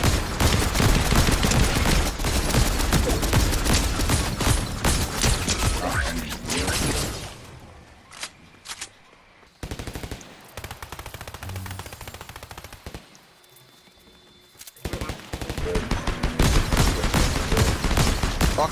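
Fortnite gunfire rattles in long rapid bursts, loud and dense at the start and end with a quieter stretch between, and players talk over it.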